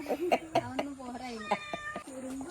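A house cat meows repeatedly at close range, giving a string of drawn-out, wavering meows with brief gaps between them.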